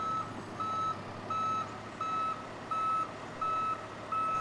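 A sailboat is towed backwards on a trailer near buildings, and the towing truck's reversing alarm sounds seven evenly spaced, steady beeps over a low engine drone, moderately distant, with no voices.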